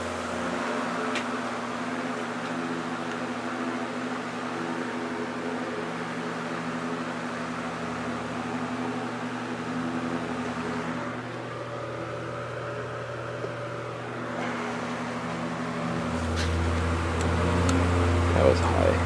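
An antique GE Vortalex electric fan runs on medium speed with a steady hum and soft airy whoosh, a low motor drone underneath that swells slightly louder near the end, with no talking.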